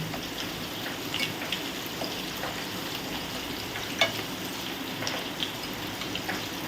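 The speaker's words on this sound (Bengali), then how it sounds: "একদম আঁচ কম করে ভাজতে হবে তাহলেই হালকা হালকা ভাজা হবে" Prawns frying on low heat in a pan make a continuous close crackling sizzle with light popping and occasional stirring taps, alone with no voices.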